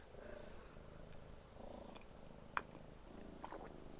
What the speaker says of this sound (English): a little kitty on my lap purring away